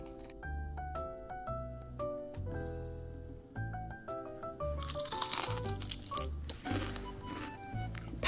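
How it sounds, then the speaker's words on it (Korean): Crisp crunching of homemade fried bangah flower bugak, Korean deep-fried battered flowers, heard as close repeated bites and chewing, with faint musical tones running beneath. "방아꽃을 먼저 먹어보겠습니다."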